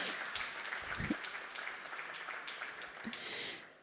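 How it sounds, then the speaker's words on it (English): Applause from an online audience after a singing performance, a faint, steady wash of clapping lasting a few seconds before fading out. "Please give it a big applause for his singing."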